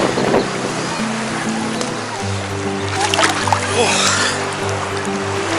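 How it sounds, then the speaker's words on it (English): Hawaiian ocean surf makes a steady broadband wash that swells around the middle with a rushing breaker. A low tonal hum from a boat or motor runs underneath. "Here comes some waves."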